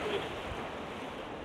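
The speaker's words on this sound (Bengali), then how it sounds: "ওখানে ঢেউ তো বেশি, নৌকা তো ওখানে টিকতে পারতেছে না।" Rough waves in the Sundarbans churn steadily near Dimer Char, broadband surf with wind buffeting the microphone, continuous and fairly loud with no voices.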